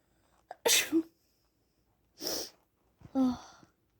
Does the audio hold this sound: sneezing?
yes